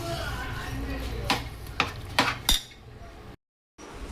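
A spoon works through cooked dal in a metal pot, four sharp clinks against the rim at uneven intervals over a soft background hum, followed by a brief silent gap.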